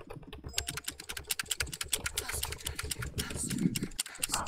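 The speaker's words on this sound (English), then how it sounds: "Those are some nice typing noises." Rapid, close typing on a computer keyboard, with dense clicking keystrokes running steadily throughout and a soft voice murmuring faintly underneath.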